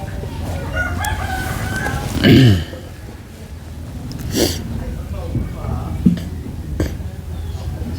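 A rooster crows once at close range among a backyard flock of a dozen or so chickens, with softer clucks and a cough around it and people talking throughout.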